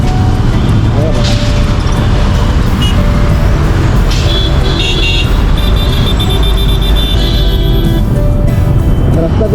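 Traffic is jammed on a badly broken road, with a constant loud rumble of idling and creeping engines and a few horn-like tones, while a person talks over the noise.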